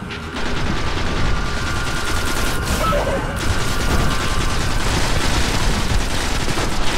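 Gunfire and a grenade blast in the video game Destiny, a dense, continuous roar of shooting and explosive noise that stays loud from start to finish, with a brief mechanical click near the middle.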